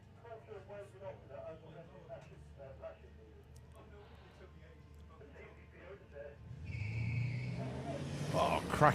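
A GLA Racing Toyota Supra and a rival drag car launch at the drag strip, a loud engine roar rising sharply near the end after a stretch of commentary talk with faint engine noise underneath.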